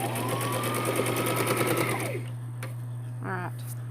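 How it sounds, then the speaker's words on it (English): A sewing machine stitching a journal closure runs at a fast, steady whirring clip for about two seconds, then stops. A brief voice follows. "I'm gonna make sure that my thread is in my needle before I start sewing anything on that"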